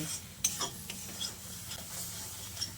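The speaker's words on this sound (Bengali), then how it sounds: "এবার সব কিছুকে ভালো করে নেড়ে চেড়ে মিশিয়ে নিয়ে আরও কিছুক্ষণ কষিয়ে নেব" Spice masala with taro sautéed in a pan, a soft sizzle under intermittent scraping and stirring strokes, quiet and close, with no voices.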